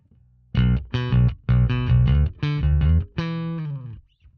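Bass guitar through a Sonicake Matribox II Pro with its compressor on, plucking a punchy riff of evenly sustained, distorted notes in close groups, ending on a longer held note that dies away.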